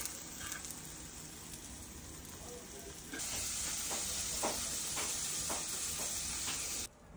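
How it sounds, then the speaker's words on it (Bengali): Food frying in a pan at home gives a faint, steady sizzle and hiss that rises sharply partway through, with occasional stirring clicks and scrapes. "দেখুন ভাজা"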